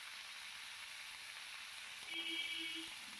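Cauliflower pieces fry in oil seasoned with salt and turmeric, a soft, steady sizzle heard close and quietly, with no talking.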